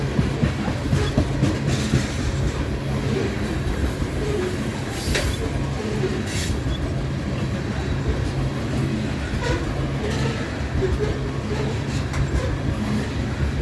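A train rolls slowly past at Ashland, Nebraska, its low rumble steady throughout with a soft clickety-clack of wheels on the rails and occasional faint metallic squeals.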